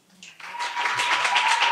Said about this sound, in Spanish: Un fuerte aplauso para Rebeca.